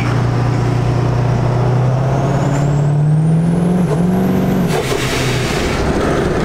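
A truck engine downshifts nearby, its loud droning note climbing steadily and then dropping as the gear changes, with a high whine riding above and constant road noise underneath.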